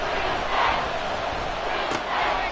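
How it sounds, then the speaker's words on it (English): A packed stadium crowd roars at an NFL football game involving the Commanders, a loud, continuous wash of cheering and shouting that swells slightly as it goes on. "This crowd doing all they can."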